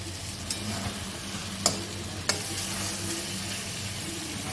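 Shrimp and taro stolons fry and are stirred in a hot pan, a steady close sizzle with a few sharp spatula scrapes and clicks against the metal.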